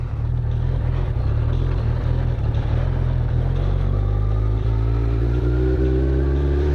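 Suzuki Bandit 1200 motorcycle pulling away for a ride, a loud steady engine drone with rising harmonics as it gains speed, heavy low rumble and wind throughout, no talking.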